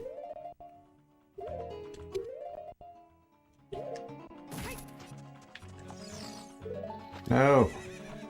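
A horse neighs and whinnies in a video game, one loud wavering whinny near the end, with hoof clip-clops, game clatter and a voice talking across the clip.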